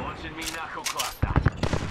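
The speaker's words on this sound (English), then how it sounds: "Stand back. Knuckle cluster's firing." Apex Legends knuckle cluster fires off a rapid burst of crackling explosive pops in gameplay, mixed under a short spoken voice line and other game sounds.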